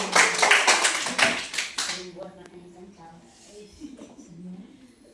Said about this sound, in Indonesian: Tepuk tangan untuk Bapak Ibu guru.